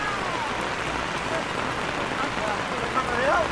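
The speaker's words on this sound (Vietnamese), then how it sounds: "Ôi mưa to quá." Heavy rain pours steadily during a rainy-season visit to the Silver Waterfall area in Sapa, a dense, even hiss of drops on surfaces, with a faint voice briefly audible under it near the end.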